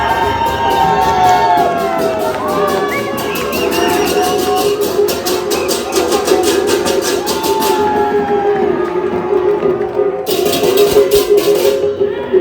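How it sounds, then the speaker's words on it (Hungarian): Dense crowd noise fills a packed street in Bali on the eve of Nyepi, the Balinese New Year, with many voices, shouts and cheering blending into a loud, continuous bustle. "Az utcák megtelnek emberekkel, mindenki kint van, hatalmas a nyüzsgés"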